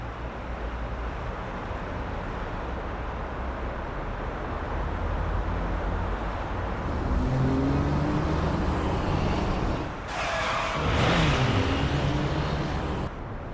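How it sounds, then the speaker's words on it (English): Car tires screech in a Guilty Gear Strive story-mode cutscene, with a rising and falling squeal swelling twice over a steady, loud background rumble. "I can hear tires screeching."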